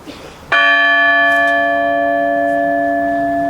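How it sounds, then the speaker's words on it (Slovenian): A new bell forged from mild steel in Germany, struck by hand once, rings out with a loud sudden strike and then a long, steady, shimmering hum that barely fades over several seconds. "Ker če po zvonu udaraš takole z roko, je en zvok."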